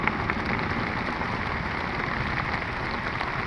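Rain pours steadily around a cycle rickshaw riding through the Bashundhara residential area, a dense continuous hiss of drops hitting surfaces close by, with no voices.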